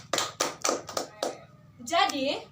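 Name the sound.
classroom students clapping hands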